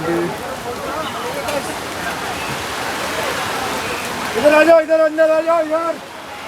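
Heavy rain pours down steadily in Mumbai, a dense constant hiss of falling water throughout, with a brief louder tonal sound near the end.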